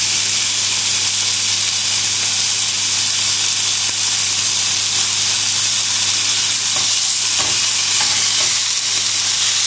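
Pork tenderloin sears in a hot oiled pan, giving a steady, loud sizzle and hiss that runs unbroken throughout, with occasional faint clinks as the meat is moved around.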